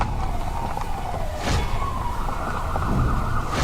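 An ambulance siren wails in a Hindi cartoon, its rising and falling tone steady and loud over a low road rumble, with no speech.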